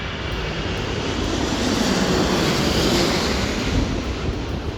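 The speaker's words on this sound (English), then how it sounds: "And the plane's back again." An airplane passes overhead near Heathrow, a loud, steady broadband engine roar that swells slightly mid-pass and holds throughout with no one speaking.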